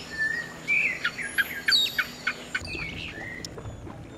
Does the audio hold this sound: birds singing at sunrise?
yes